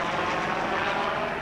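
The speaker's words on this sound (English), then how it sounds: "A helicopter." Steady, loud rotor and engine roar of a helicopter passing overhead at an outdoor parade in Clara, County Offaly, a continuous broadband drone with no talk over it.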